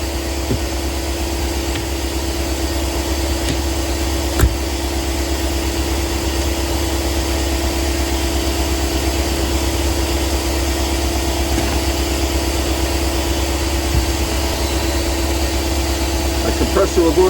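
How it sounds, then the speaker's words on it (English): An air compressor runs with a steady low droning hum and constant mechanical vibration, loud and continuous throughout with no clear breaks. "My compressor will go to 150,"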